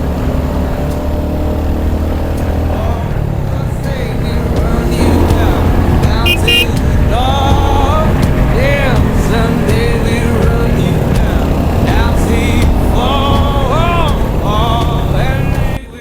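A new motorcycle rides on the road toward Khandala, its engine droning loud and steady through the whole stretch, with wind and passing traffic and people talking over it.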